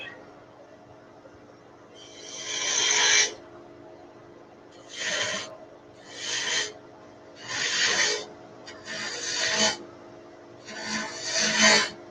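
A spindle gouge cuts wood spinning on a lathe in repeated scraping, rasping passes of a second or so each, separated by short pauses, fairly close with a faint low machine hum beneath.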